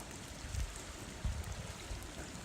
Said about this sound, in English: can really see just how fast that water is flowing down there